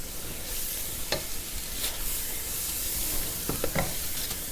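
Thick fresh mango fudge (burfi) mixture is stirred in a heavy pan over the stove, a dense sizzling bubble with several sharp spatula scrapes and taps, close and steady.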